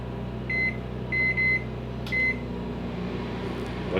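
A microwave oven in a 2015 Thor Vegas RV hums steadily while several short high beeps sound in quick succession, close and fairly quiet, with no talking.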